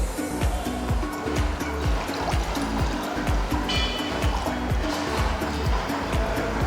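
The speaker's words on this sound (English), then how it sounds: "First, we'll add water in the saucepan." Water is poured into a saucepan for cilantro soup, a continuous splashing rush at moderate level with a faint rhythmic hum running underneath.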